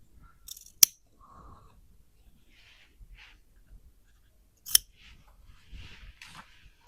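Scissors trim jacket fabric during half-scale jacket hemming, giving a few soft, sharp snips spaced apart in a quiet room, with faint rustling of cloth between cuts.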